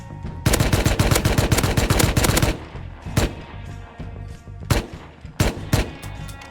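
Rapid automatic gunfire from a firefight in the video game Rust, a dense close burst of shots for a couple of seconds followed by scattered single and double cracks with short gaps.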